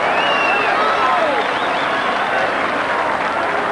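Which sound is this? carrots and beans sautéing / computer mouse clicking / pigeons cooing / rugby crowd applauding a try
rugby crowd applauding a try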